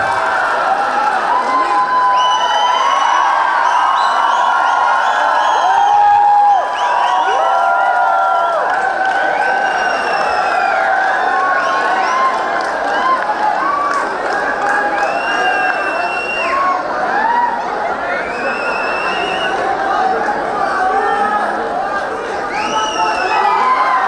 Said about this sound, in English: Let's welcome them to the stage with a huge round of applause.